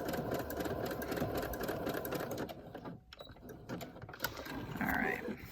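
A sewing machine runs zigzag stitches on inside panels in a fast, steady mechanical whir. It pauses briefly near the middle and resumes, with faint handling noises around it.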